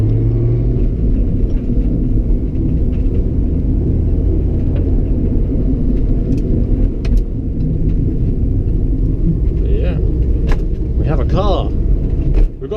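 A drift car with a short shifter rumbles steadily while being driven, a loud continuous low engine drone filling the whole stretch, with a few faint higher whines and clicks near the end.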